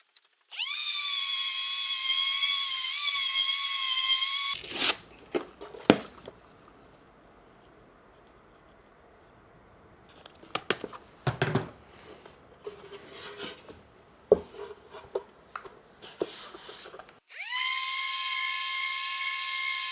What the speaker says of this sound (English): this is going to get sanded down with 220, maybe 320